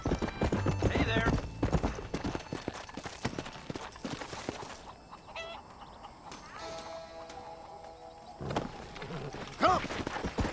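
Horse hooves clip-clop in a steady galloping rhythm in the Western video game Red Dead Redemption, with a neigh or whinny near the start, continuing under game dialogue and ambient sound.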